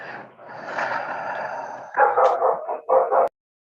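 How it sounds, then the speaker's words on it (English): A dog barking during a remote court hearing, heard through a call line: a run of close, sharp barks and yips in short bursts that then cut off abruptly into silence. "since we can hear your dog barking in the courtroom."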